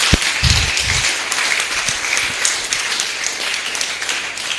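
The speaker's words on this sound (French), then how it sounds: "je vais demander d'abord qu'on acclame le bureau de la JAD" Congregation applauding at a church gathering, steady loud clapping from many hands that fills the room, with a few low thumps near the start.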